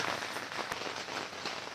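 Steady rain pouring down on a booth at an outdoor Saturday arts and crafts festival, a dense continuous hiss with scattered louder drops, close and fairly loud with no talking.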